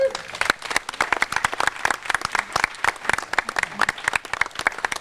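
Audience applause at a library reading garden ribbon cutting, a dense burst of many hands clapping steadily and fairly close, sustained through the whole moment.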